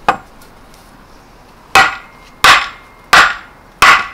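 Hammering during a budget garden makeover, with a single strike followed by a pause and then four sharp, loud blows spaced evenly, each ringing briefly, close up with no talking.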